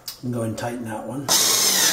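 A power driver tightens a screw on an IKEA Micke drawer unit during assembly, one steady whirring burst running close by after someone speaks briefly.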